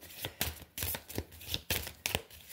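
Oracle cards are shuffled in repeated quick riffling bursts, about seven crisp papery rustles in an irregular rhythm, close and clear with no talk.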